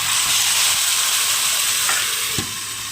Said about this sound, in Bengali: পেঁয়াজটা লাল হয়ে গেছে এবার মাখা মাংসটা দিয়ে